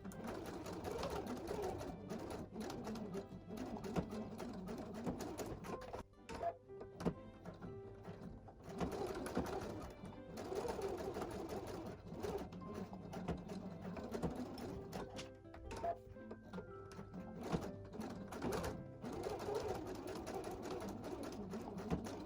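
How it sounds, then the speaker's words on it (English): A sewing machine stitches down the two short ends of a fabric pouch with a half-inch seam allowance, running in steady close-up bursts of rapid needle chatter separated by brief pauses. "we're going to sew down the two short ends"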